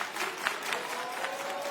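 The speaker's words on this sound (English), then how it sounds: "Crowd rallying behind Commander." Spectators at a wrestling event cheer and clap together, a dense, steady wash of applause with scattered shouts at moderate volume and a faint voice underneath.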